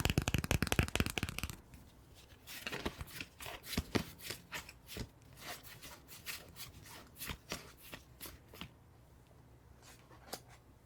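Plastic tarot card deck being shuffled, a quick riffle burst at first, then soft scattered sliding and tapping of cards, close and quiet, with no talking.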